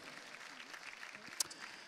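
Scattered applause rises from the stands at the Saut Hermès show jumping event in Paris for rider Michael van der Vleuten, faint and distant clapping with a murmuring crowd.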